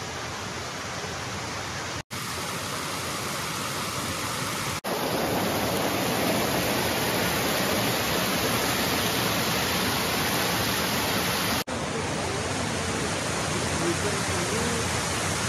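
Waterfall at Ambassa, a loud, continuous roar of rushing water heard up close, with a few abrupt cuts between takes and no talking.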